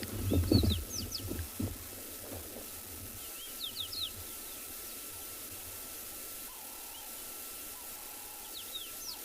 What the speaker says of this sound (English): So cool sound where most of birds are still in shade, but communication is still going on